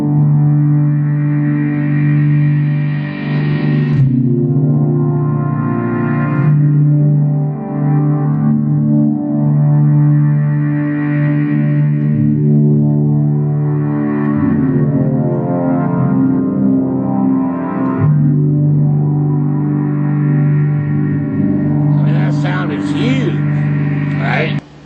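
A guitar synth sound from a stock preset on a Meris Enzo pedal plays continuously and loudly, with a thick, sustained tone, gliding, shifting notes, and bright processed textures near the end.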